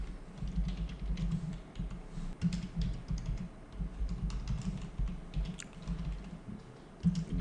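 Steady typing on a computer keyboard while entering button code for a Bootstrap web page, with rapid close keystrokes clattering continuously throughout, no voice present.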